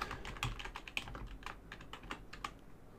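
Quick, irregular keystrokes on a computer keyboard, soft and close, with clustered taps and brief pauses throughout and no voices.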